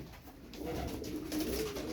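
Low, soft coos of tumbler pigeons murmur steadily throughout, several birds overlapping in a continuous rumbling burble with some faint background hiss.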